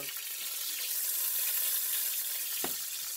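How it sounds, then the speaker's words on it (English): Salmon skin frying in a hot pan gives a steady, close sizzle that holds for the whole stretch, with one brief sharp crackle near the end. "because I know how to fry that skin hard. Not hard, but crispy"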